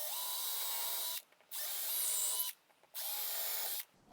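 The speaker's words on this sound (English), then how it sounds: "Now we can drill the holes to their correct depth." A power drill bores screw holes into the hub of an old bit brace being restored, running in three steady bursts about a second each with short pauses between, close and loud with no talk.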